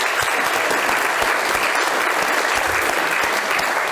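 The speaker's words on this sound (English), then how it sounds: "let's give him a nice round of applause" An audience at a rescue mission's fundraising gathering gives a warm round of applause, a loud, dense, steady clatter of many hands close by with no talking over it.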